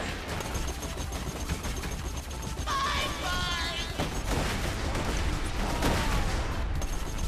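Rapid bursts of gunfire from a shooter video game set on Pandora crackle and thud continuously at close range, with a voice briefly audible in the mix.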